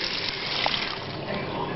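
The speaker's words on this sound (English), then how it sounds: "now let's put a little water into it" Water pours into a container with a steady rushing trickle during a silver plate removal project, continuous and fairly loud.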